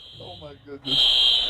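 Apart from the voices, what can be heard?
fire alarm going off during a TV broadcast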